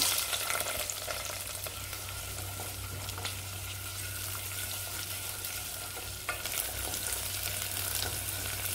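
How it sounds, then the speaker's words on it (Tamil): Onions sauté in oil with whole spices like cardamom and fennel, giving a steady, close frying sizzle with scraping stirs running throughout and no voices. "வெங்காயம் சேர்த்து வதக்கிக்கலாம்."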